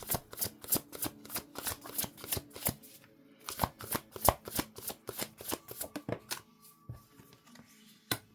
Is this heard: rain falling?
no